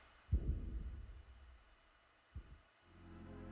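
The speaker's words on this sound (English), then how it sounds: "It's pretty cool though. You can hear that heartbeat." Heartbeat sound effect in the video game Final Fantasy Brave Exvius: two deep, muffled thumps about two seconds apart, followed by a low hum, with no talking.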